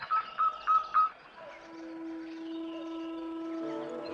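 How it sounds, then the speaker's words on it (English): Birds in the woods: a few short, hooting calls repeat at the start, followed by sustained clear whistled tones, fairly faint and with no talking. "she listened to the birds in the trees as they sang their sweet songs"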